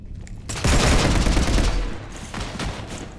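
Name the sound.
gunfire shooting at a ship in the video game Mass Effect 3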